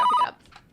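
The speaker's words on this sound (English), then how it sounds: "Sorry guys, I just got a phone call." A telephone rings once for an incoming call, a short loud electronic ring that cuts off quickly and gives way to faint background sound.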